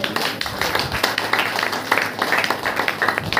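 A Hindi-speaking church congregation clapping hands at a Saturday power meeting, quick irregular claps from many people blending into a busy patter, with a voice faintly under the noise.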